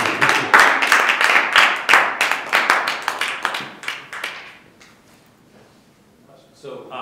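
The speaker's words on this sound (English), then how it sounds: "I'm going to clap now" A small group claps after a final presentation, sharp hand claps rattling out rhythmically for several seconds before fading into near quiet.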